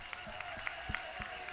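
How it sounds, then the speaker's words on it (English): Scattered hand claps from a rave crowd ring out roughly in rhythm over loud, droning music, several sharp claps spread across a short stretch. "Somebody clap your hands."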